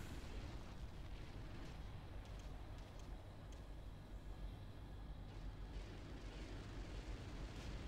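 Steady rumble of artillery shelling and explosions on a Ground Control battlefield, faint and distant, a continuous low roar with scattered bursts and no talking.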